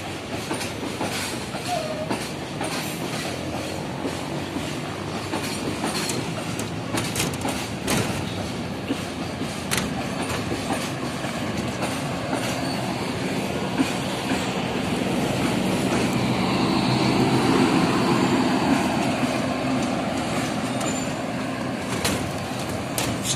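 Indonesian KAI passenger train Argo Parahyangan, hauled by diesel locomotive CC20654 in the new livery with stainless steel coaches, rumbles past at close range with a steady clickety-clack of wheels that swells in the middle of the passage.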